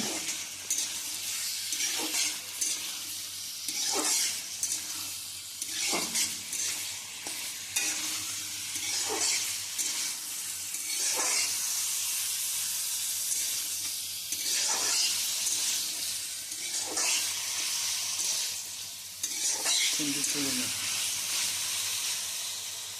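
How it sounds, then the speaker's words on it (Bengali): Marinated chicken fries in a pan under a steady hissing sizzle, with repeated spatula scrapes and stirring strokes at a fairly regular pace across a long stretch. The sound is close, and a voice is faintly heard at times. "চিকেনটা দিয়ে খুব ভালোভাবে সব কিছুকে নাড়াচাড়া করে ভাজতে হবে।"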